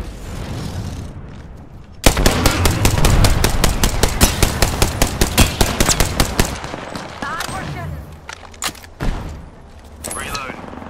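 Rapid automatic gunfire from Apex Legends erupts loudly and close, a long burst of evenly spaced shots followed by scattered shorter volleys, with faint in-game voices mixed beneath.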